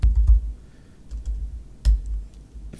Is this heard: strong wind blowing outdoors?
no